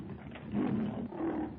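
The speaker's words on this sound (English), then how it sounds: "With a last gasping roar, the great beast lurches forward, stumbles, falls to the ground." A great beast lets out a final gasping, dying roar, staged as a radio drama sound effect: one drawn-out, rough growl rising and then fading, close and alone with no voices.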